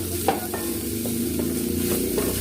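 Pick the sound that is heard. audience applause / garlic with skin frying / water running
garlic with skin frying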